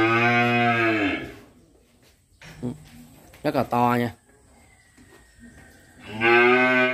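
Big Belgian Blue cattle at a Vietnamese cattle farm let out two loud, deep, drawn-out moos close by, one at the start and one at the end, with someone talking in between.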